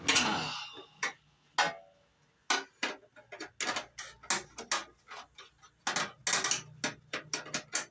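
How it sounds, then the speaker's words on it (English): A ratchet wrench clicks in quick irregular bursts while tightening fuel system parts on a Craftsman GT lawn tractor, close and crisp with short pauses. "get some wrench action here"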